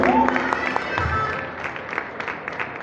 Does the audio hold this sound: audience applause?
yes